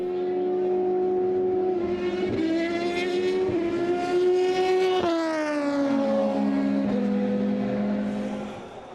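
Endurance race cars on the start-finish straight at Interlagos during the 2014 FIA WEC 6 Hours of São Paulo scream past with loud, high engine notes that rise and then drop in pitch as they pass, followed by another car.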